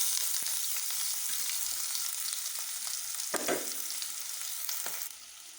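Chopped onion hits hot oil in a pan, giving a loud, steady close sizzle with a few scraping stirs before it eases off near the end.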